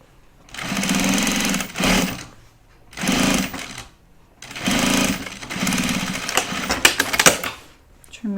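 Sewing machine stitching a quarter-inch seam on a project bag: four loud, even runs of rapid needle chatter separated by short pauses, the last run ending in clattery back-stitching.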